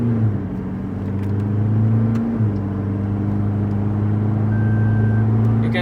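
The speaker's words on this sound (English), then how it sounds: "So guys, I'm in the 4th map doing the launch control as well." A tuned Toyota Fortuner Stage-2 with launch control holds a loud, steady engine drone that dips and shifts in pitch around two seconds, then settles into sustained revving, close and dominant.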